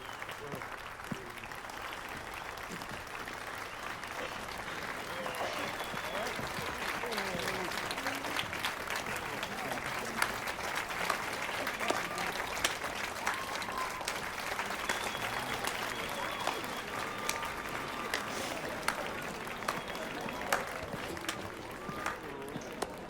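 In the video game The Witcher 3, in Novigrad, a crowd claps and cheers continuously, with a murmur of voices and scattered louder claps rising over the steady applause.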